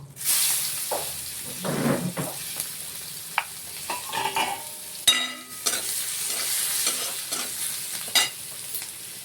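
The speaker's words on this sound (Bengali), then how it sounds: "কুচনো পেঁয়াজটা আমরা এখানে একটা বড় সাইজের নিয়েছি সেটা আমরা দিয়ে দেব" Chopped onion hitting hot oil tempered with five-spice for a Bhola fish curry, with loud sizzling and hissing plus scraping stirs and clattering spoon knocks throughout.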